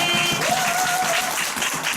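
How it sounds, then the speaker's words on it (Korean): An audience at a business group meeting welcomes a speaker to the stage with steady crowded applause, loud and continuous, and a faint tonal whine drifts through the clapping. "박수로 환영해주세요"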